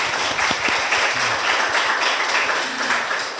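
An audience at a literary reading event gives a big round of applause for guest Kwon Na-mu: a dense, steady wash of many hands clapping throughout, loud and continuous, with no talking.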